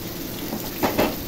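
Chopped onion hits hot oil already frying with cumin seeds, a brief close crackling sizzle with two sharper spitting bursts near the end.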